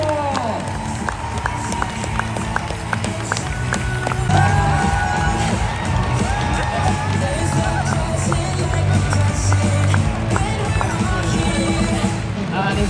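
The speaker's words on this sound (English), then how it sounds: "The biggest cheer of the season." A large indoor arena crowd at the London International Horse Show cheers and claps after a Shetland Pony Grand National race, a sustained roar layered with whoops and applause while an announcer talks over it.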